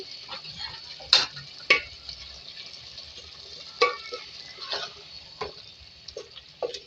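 Homemade ground masala being stirred into mustard-green saag with aloo and chicken as it cooks, soft background bubbling broken by sharp spoon scrapes and taps against the pot at irregular intervals, close and without talk.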